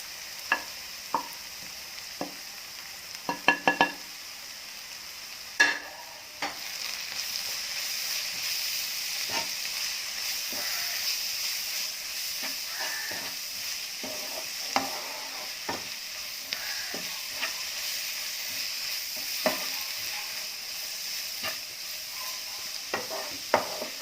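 A masala spice mix is stirred into sautéed onions in a hot pan for Kerala-style chicken pollichathu, steady frying sizzle with repeated scraping clicks of the spoon against the pan.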